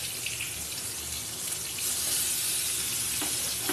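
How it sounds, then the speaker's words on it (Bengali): Ripe mangoes dropped into hot oil with whole mustard seeds, giving a dense, continuous hiss of frying close up, steady throughout without voices. "পাকা আমগুলো নিয়ে চলে এসেছি, তেলের মধ্যে একে একে দিয়ে দিচ্ছি।"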